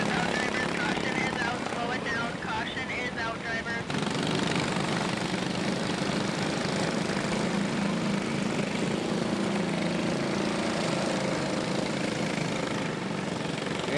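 Racing karts at a Red River Kart Club summer series night event roar continuously under a commentator's voice, several small engines droning and buzzing together as the field prepares to go back to green.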